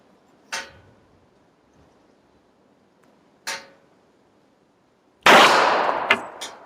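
Two sharp single reports from a Smith & Wesson Performance Center 1911 pistol in .45 ACP at an outdoor range, spaced about three seconds apart, followed by a louder, longer burst of noise near the end.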